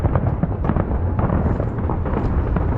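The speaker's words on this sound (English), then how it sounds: "The fireworks." Fireworks exploding during Chinese New Year in Macau, a dense continuous barrage of rumbling, crackling bursts, loud and steady throughout with no talking.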